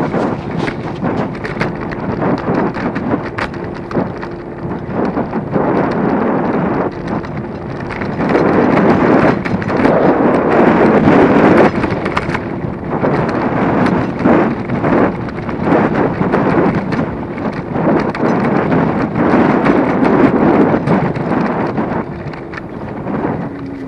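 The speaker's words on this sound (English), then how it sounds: "It's a little bit windy," Gusty wind roars across the microphone while riding an eScooter toward a city centre, a loud continuous buffeting that swells and dips throughout with no talking.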